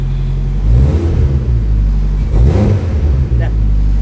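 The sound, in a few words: modified Honda S2000 engine revving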